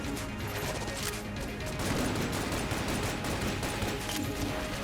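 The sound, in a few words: gunfire in the video game Enter the Gungeon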